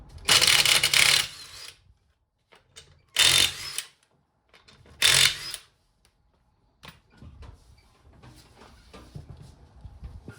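A ratchet with a 19mm socket works the front wheel bolts of a Peugeot 106 or Citroen Saxo, giving three loud, roughly second-long mechanical bursts, then quieter scattered clicks and handling noises.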